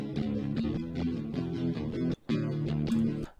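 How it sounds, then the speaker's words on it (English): Clean, unamplified DI electric guitar tracks from a song demo, a steady run of picked chords and notes with a brief gap near the end, fairly loud and alone with no voice. "what I've got here is I've got the clean DIs of those tracks"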